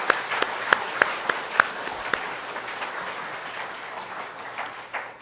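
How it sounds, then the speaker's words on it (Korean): Congregation applauding at a church ordination service in a Korean church, with a few sharp louder claps at the start before the clapping settles into a steady, moderately loud wash that slowly fades. "우리 박수로 한번 힘차게 한번 축하해 주시기 바랍니다"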